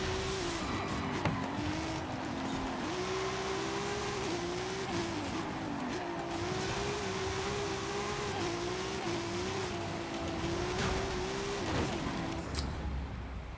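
A Jaguar E-Type race car with a 2JZ engine drives in Forza Horizon 5, its engine droning at a steady pitch that dips and climbs with repeated shifts and revving, with brief tire squeal and no talk.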